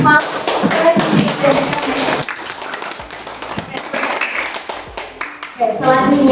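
An audience claps for a presenter at a microteaching competition, a burst of applause that thins into scattered claps and taps, with a voice speaking over parts of it.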